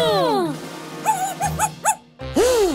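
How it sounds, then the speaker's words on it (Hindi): A small puppy yips and whimpers in quick high-pitched bursts, several short close barks in a row, while other voices speak around it in a playful indoor scene. "ये तो छोटा सा पपी है।"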